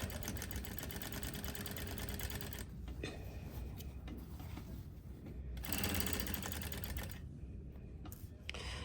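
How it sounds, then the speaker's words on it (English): A sewing machine stitching a fabric hem runs in a steady, fast mechanical whir with brief pauses and restarts, close up and alone with no voices. "So I'm just gonna continue stitching until those stitches meet up."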